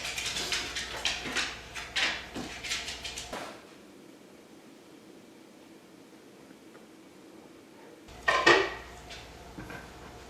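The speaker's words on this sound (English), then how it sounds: "we're going to go ahead and remove this meat from the bone" Slow-cooked venison from a crock pot is pulled off the bone with a fork, giving a run of clinking, scraping utensil taps for several seconds, then a quiet pause and another short clatter.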